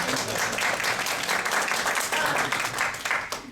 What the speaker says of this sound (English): just the clapping makes you feel good